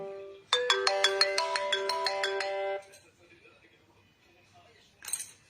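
A repeating electronic phone ringtone plays loudly and steadily for about two seconds, then cuts off as the call is answered, followed by quiet room sound and a short burst of noise at the end.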